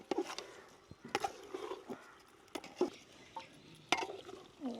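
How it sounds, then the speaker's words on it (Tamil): Chicken with masala is stirred in a pot, giving quiet, scattered scraping and clinking knocks of a utensil against metal, irregular and close, with soft wet shuffling between strikes. "சிக்கனுக்கு கொஞ்சமாக உப்பு போட்டுட்டு அப்படியே மசாலாவோட நல்லா கிளறணும்."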